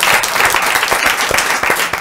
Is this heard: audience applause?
yes